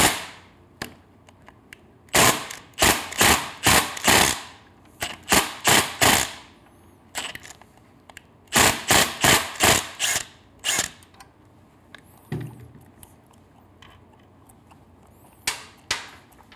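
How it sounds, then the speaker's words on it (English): An impact wrench drives an 8 mm Allen bolt while a drag pipe exhaust is installed on a Triumph Street Twin, giving loud, close bursts of rapid hammering separated by short pauses. "I'm using an impact."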